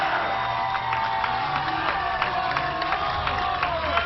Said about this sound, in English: Great to hear the noise of the crowd again.